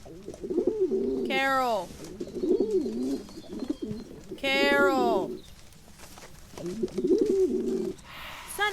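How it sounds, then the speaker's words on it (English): Pigeons coo in the ghost-hunting game Phasmophobia, with several loud, close, rolling coo phrases in clusters separated by short gaps, while a player's voice calls out in between. "I couldn't hear nothing because it was all pigeon noises"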